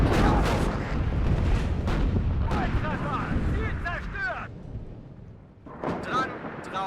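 Artillery and gunfire in the Cold War strategy game WARNO during a town battle: repeated loud booms and crackling shots, distant whistling projectiles, and rumbling blasts, with people talking over parts of it.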